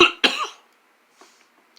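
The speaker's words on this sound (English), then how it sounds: "I just have a cough" A person with a lingering chesty cough gives two sharp, close coughs in quick succession, then a faint throat sound and a small breath trailing into quiet.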